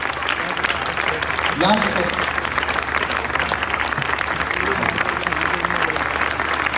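A large audience at a live worship revival festival claps steadily to welcome a reverend onto the stage, dense sustained applause throughout, with a voice speaking briefly over it.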